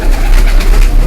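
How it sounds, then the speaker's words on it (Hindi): Racing pigeons coo close by in Rawalpindi, a loud, continuous murmur of soft repeated calls with no speech over it. "ये सारे रेसर कबूतर हैं जी।"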